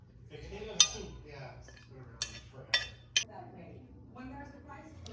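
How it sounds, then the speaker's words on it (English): A utensil stirs and fluffs rice in a pot with melting butter, soy sauce and orange peel, giving several sharp metallic clinks and scrapes spaced over a few seconds against a low kitchen hum. "Now I'm just kind of fluffing the rice up and letting the butter melt"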